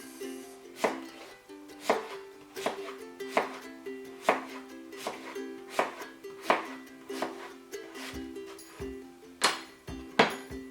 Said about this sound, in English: Cut them in half again. And slice.